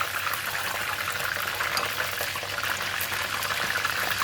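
Pieces of curry-powder-coated chicken deep frying in hot oil, a steady, dense bubbling sizzle that holds at an even loudness throughout with no talking.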